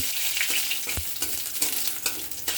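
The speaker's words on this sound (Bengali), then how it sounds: "শুকনো লঙ্কা, পাঁচফোড়ন, তেজপাতা, আদা কুচি দিয়ে দিলাম ফোড়ন।" Dried red chillies, panch phoron, bay leaf and chopped ginger crackle and sizzle in hot oil, with a few sharp spoon clinks as the tempering is stirred up close.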